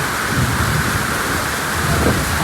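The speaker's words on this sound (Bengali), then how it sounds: "প্রচণ্ড বজ্রপাত, তার সাথে বৃষ্টি।" Heavy rain pours down in Mirpur, Dhaka, a loud, dense, continuous hiss of downpour layered with deep rolling thunder, no voices.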